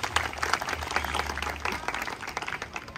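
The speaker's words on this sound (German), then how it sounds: "es ist ein Applaus wert, auf jeden Fall." Moderate audience applause at an outdoor church gathering on the Hesselberg, a scattered patter of many hands clapping that thins out toward the end, with faint crowd murmur underneath.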